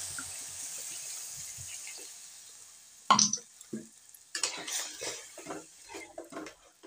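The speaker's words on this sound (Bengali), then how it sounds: "দেখো, এবার এটা জল ঢেলে দেবো" Water pours into bhindi curry in a pan, starting with a sudden splash and then running as an uneven, bubbling gush over a quieter kitchen background.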